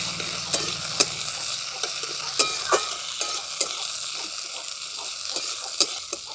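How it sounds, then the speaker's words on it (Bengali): Potatoes with slit green chillies and ginger-chilli paste sizzle steadily in a pan, the constant frying hiss punctuated by sharp clicks of stirring. "দিয়ে দিচ্ছি তিনটে চেরা কাঁচা লঙ্কা এগুলো আলুর সঙ্গে আমি খুব ভালো করে ভাজা ভাজা করে নিচ্ছি"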